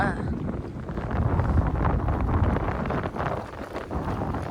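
Wind gusting beside the water at the KRS backwater near Mysore, a steady broadband roar that swells and buffets the microphone throughout, loud and close.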